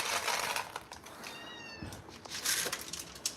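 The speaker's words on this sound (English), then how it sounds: "Meow. Hey, kitty." A cat meows once, faint and brief, amid outdoor background noise on a small farm at feeding time.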